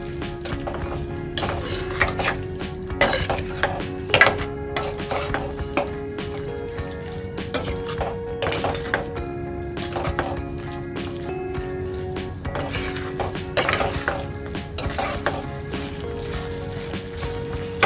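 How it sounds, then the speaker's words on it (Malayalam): A spoon stirs dry mango and dates pickle with masala in a pan, giving repeated close scraping and clinking strokes against the metal in an uneven rhythm, with a light sizzle underneath. "നല്ല പോലെ ഒന്ന് മിക്സ് ചെയ്ത് കൊടുക്കണം"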